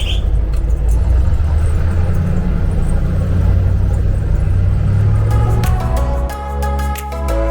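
Car driving through Balochistan, a loud, steady low engine and road rumble from inside the vehicle, easing off toward the end as other clatter comes in.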